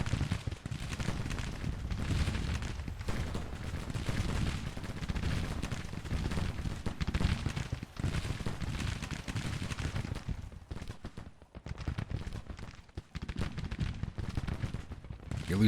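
Massed rifle and cannon fire from brigades in the Civil War strategy game Grand Tactician: The Civil War, rumbling as dense, continuous volleys with a heavy low boom; someone speaks over the battle noise.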